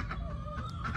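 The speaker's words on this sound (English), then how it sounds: "This, even though he's shy, is Magneto, our lone rooster. He's an Ayam Cemani" An all-black Ayam Cemani rooster gives a short run of close, moderately loud clucks over about a second, with farmyard ambience in the background.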